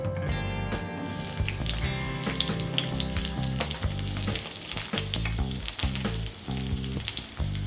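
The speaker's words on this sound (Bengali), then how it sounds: "পেঁয়াজটাকে হালকা করে ভেজে নেব।" Two medium onions cut into large chunks fry in hot white oil for a Bengali pepper chicken, giving a steady close sizzle over a dense, busy kitchen background that stays loud throughout.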